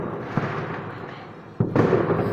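New Year fireworks burst outside a window in the night, a muffled, distant pop followed by a sharper, louder crackling blast about a second later, set against a faint hiss.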